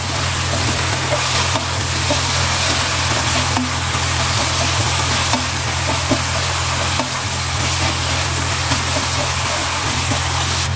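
Pork and vegetables frying and being stirred in a pan with soy sauce, dissolved cornstarch and black pepper, a steady loud sizzle with light scraping throughout, under a constant low hum.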